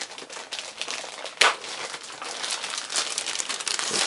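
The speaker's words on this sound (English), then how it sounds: "The router itself comes in a nice plastic bag." A thin plastic bag around a TP-Link TD-W8970 router crinkles steadily through the whole stretch, close and fairly loud, with one sharper rustle partway in.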